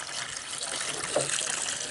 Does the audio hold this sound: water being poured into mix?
yes